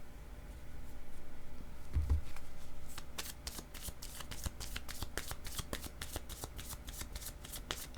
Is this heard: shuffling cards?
yes